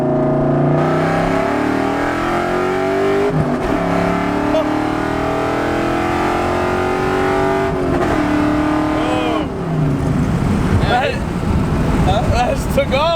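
A car accelerates hard from inside the cabin, the engine note climbing through rising revs with gear changes, while people talk excitedly over it.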